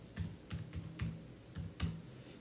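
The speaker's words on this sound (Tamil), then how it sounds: "அதை வந்துட்டு இங்கே டைப் பண்ணுங்கள்" Keys tapped on a computer keyboard in short bursts of several quick clicks with brief pauses, close and fairly quiet, during a Java IDE setup demonstration.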